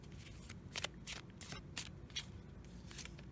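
A deck of matte, silky oracle cards is shuffled by hand, producing quick soft riffling bursts that repeat about every half second, faint and close with a quiet background hiss.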